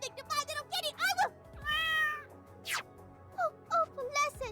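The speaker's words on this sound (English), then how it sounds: "My cat! Where's my kitty?" A cat meows in a fan-made courtroom case game, one drawn-out mew rising and falling in the middle, with characters' voices chattering before and after it.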